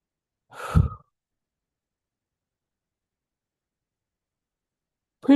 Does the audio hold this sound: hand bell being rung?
no